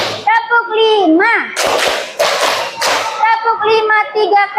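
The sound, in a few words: children clapping hands in a counted clapping pattern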